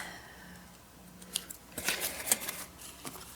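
Scissors trim paper for a missionary journal, a handful of crisp close snips clustered together after a brief quiet start, soft and near, with no voices.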